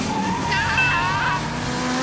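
Cartoon race cars at the start of a race, engines whining and tires squealing as they rush past close by, a short loud burst of revving with a rising pitch.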